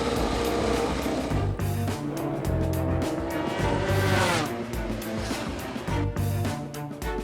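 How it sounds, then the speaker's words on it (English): A factory Ducati MotoGP motorcycle ridden by Marc Marquez revs loudly and continuously, its engine note rising and falling close by with no speech over it. "For the first time then in MotoGP, Marc Marquez gets to twist the throttle on a factory Ducati."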